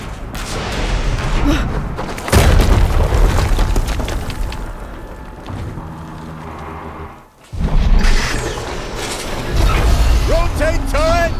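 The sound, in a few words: another explosion in Horizon Zero Dawn video game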